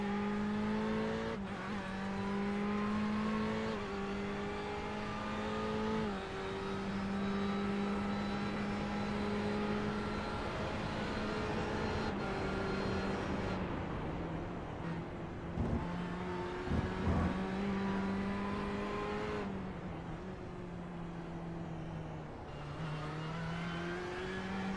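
Race cars lapping the Nürburgring in the Ferrari Challenge racing game, engines droning with steady rising and falling pitch, gear shifts breaking the tone now and then, loud and continuous without speech.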